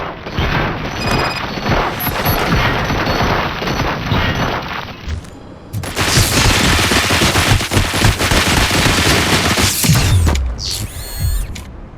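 Sustained bursts of automatic gunfire from a RoboCop film scene, loud and dense, with a brief lull before a second heavy volley and a final booming shot.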